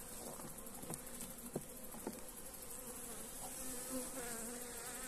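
Honeybees buzz steadily inside an open hive holding fresh brood, during extreme summer heat in central Portugal; a dense, calm insect hum fills the background with occasional louder passes of individual bees close by.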